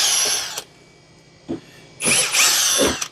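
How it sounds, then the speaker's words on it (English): A cordless drill with a Phillips bit whirs in several short bursts separated by pauses, ending in a longer, louder run as it drives screws nearby while assembling an ICE USA i15B machine. "a drill gun with a Phillips head screwdriver on it"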